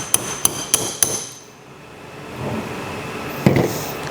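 Four sharp metallic taps in quick, even succession as a hammer taps out a dowel pin on a Toyota IFS 4x4, then a quiet pause and one more strike near the end, close by.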